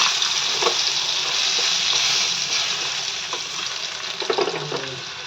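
Potato pieces fry in hot oil with whole garam masala and a bay leaf, giving a steady, fairly loud sizzle with brief crackling bursts throughout and no voices.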